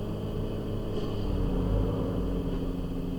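A vehicle drives on PUBG's Livik map, a steady low engine rumble and road drone throughout, moderately quiet with a slight swell in the middle and no talking.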